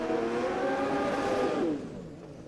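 A drag racing motorcycle launches at Willowbank Raceway: a loud, rising high-rev engine scream that climbs in pitch, then drops and fades away after a second and a half, with no talking.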